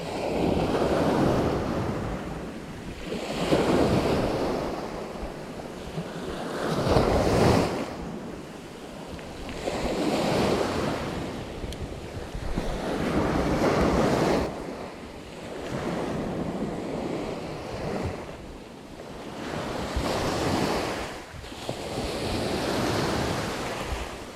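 Sea waves breaking and strong wind buffeting the microphone on a shoreline during squid fishing, with steady roaring surf that swells and recedes in repeated surges over about twenty seconds.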